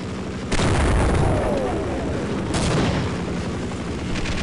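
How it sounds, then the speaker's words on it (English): In Half-Life, a helicopter strafes with heavy gunfire, two booming onsets at the start and midway, followed by dense rumbling bursts that stay loud and close throughout. "The helicopter just did a strafe run."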